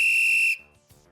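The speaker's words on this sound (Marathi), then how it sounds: "तितक्यात एक शिट्टी वाजल्याचा आवाज झाला." A single sharp, shrill whistle blast signals the start of a race, loud and close, ending abruptly after about half a second and followed by quiet.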